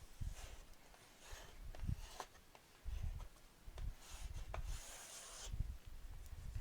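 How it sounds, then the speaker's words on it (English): A tool rubs back and forth over tape on a paper mini folio, pressing it down in short dry scraping strokes with brief pauses between, close and fairly quiet. "I'm going to burnish it a bit."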